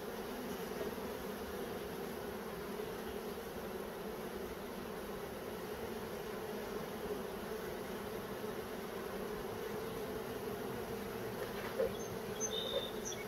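A steady low drone of many bees buzzing continuously inside a box while being moved into a Flow Hive, close and moderately loud, with no other sounds breaking through.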